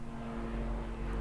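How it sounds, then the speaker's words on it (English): A low-flying helicopter passes over a studio, giving a steady, close, low rumble that holds at an even level throughout with no voices. "You got the helicopters basically over our new studio right now."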